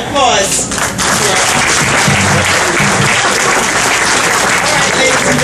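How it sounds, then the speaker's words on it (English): A theater audience at a live stage show applauds loudly and steadily for the whole stretch, a dense wash of many clapping hands with some crowd murmur mixed in. "Let's give it a big round of applause."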